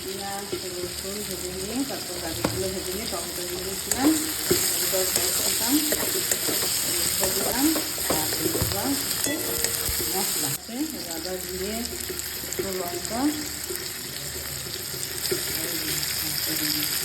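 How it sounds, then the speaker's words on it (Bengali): Hilsa fish fry in a pan of hot oil while cabbage cooks nearby, a steady close sizzle and bubbling spatter running throughout beneath frequent talking from people in the kitchen. "আমি এদিকে বাঁধাকপি ওদিকে মাছ ভাজছে মাছগুলো এত ফুটছে"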